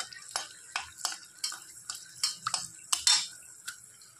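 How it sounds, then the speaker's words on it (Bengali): Bay leaf and dried red chilli dropped into hot oil in a kitchen pan, giving quiet crackles and sizzling spits in short irregular bursts, close and faint, with light utensil clinks. "তেল গরম হয়ে গেছে, দিয়ে দিব তেজপাতা,"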